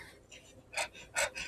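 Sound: panting after running

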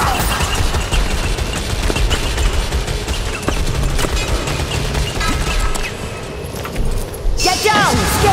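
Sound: Skaven gun firing in a video game

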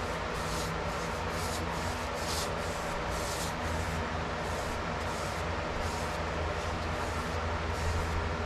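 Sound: wiping a DIY countertop with a tack cloth

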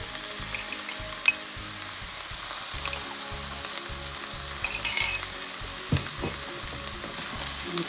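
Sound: stirring hot dog and potatoes frying in a pan

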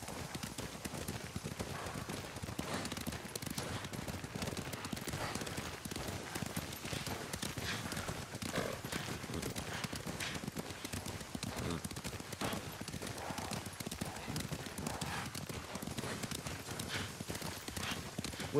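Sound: horses galloping, clip-clop of hooves, from video game Ghost of Tsushima

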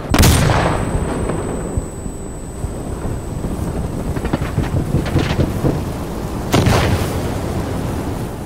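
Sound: flashbang grenade going off, from the video game Insurgency Sandstorm

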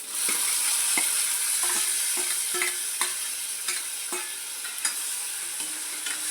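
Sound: frying crushed garlic, peanuts and tomato in hot oil

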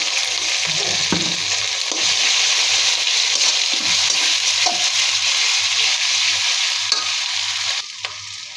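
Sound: frying ginger and garlic paste with spices

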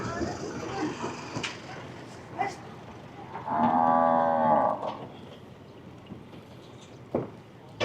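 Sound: cattle mooing at a cattle market

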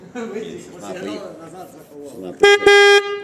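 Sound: car horn honking

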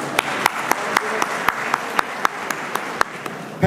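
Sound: audience applauding arriving officials

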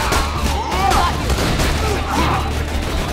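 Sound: Gunzerker's gun firing faster as trigger is held, Borderlands 2 video game

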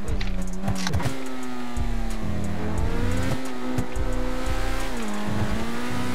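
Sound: police car driving off in GTA RP video game

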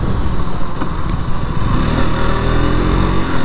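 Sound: KTM RC 200 motorcycle engine revving

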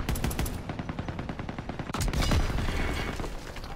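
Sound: gunfire shooting at buildings in video game Call of Duty WWII

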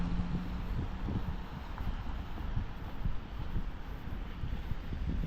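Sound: strong wind

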